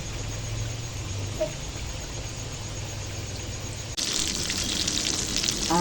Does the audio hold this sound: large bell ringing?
no